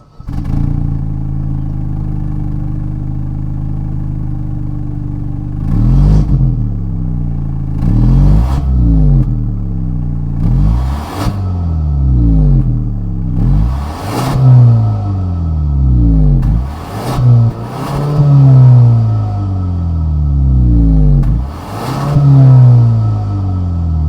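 A 2023 Kia Stinger GT-Line's 2.5-liter turbocharged engine idles low and then revs repeatedly in sharp bursts, each rev rising and falling back, loud and close.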